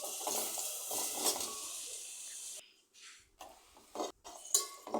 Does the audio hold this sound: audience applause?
no